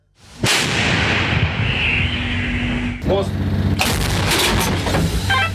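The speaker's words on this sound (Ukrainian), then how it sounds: "Так стріляє польська самохідна гаубиця краб." A Polish Krab self-propelled howitzer fires with a sharp, loud blast that rolls on as a sustained roar, followed by another burst of firing close by.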